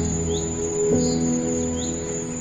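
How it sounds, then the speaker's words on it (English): Birds sing in a quiet forest, giving a few faint, high chirps over a constant insect-like whine and a low hum, with no talk. "You can hear only the singing of the birds."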